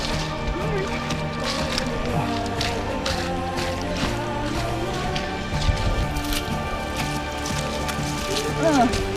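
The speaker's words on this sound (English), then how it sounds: "we're hiking out and the rain feels awesome" Rain falls steadily on a muddy hiking trail, a dense continuous patter mixed with squelching footsteps and shuffling, heard close and fairly loud without speech.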